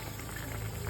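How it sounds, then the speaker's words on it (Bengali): A teasel gourd fish curry bubbles steadily in a covered pan on a gas flame, giving a continuous, even simmering burble with no talk over it. "দেখুন একেবারে টকবক করে ফুটতে শুরু করেছে"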